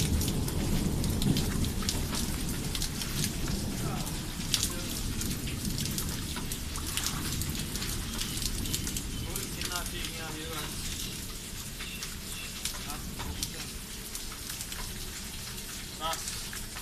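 Heavy rain pours steadily through a thunderstorm in a Pakistani village, a dense continuous hiss of drops on surfaces with low rumbles of thunder underneath, while someone talks over it.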